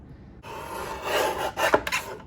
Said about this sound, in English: I'm just using my Tim Holtz trimmer here.